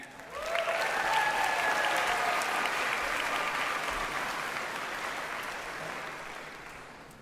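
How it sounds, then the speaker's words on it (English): Audience applause for a jazz band at a high school graduation ceremony: dense, sustained clapping from a large crowd that holds steady and then slowly tapers off. "One more round of applause for our jazz band."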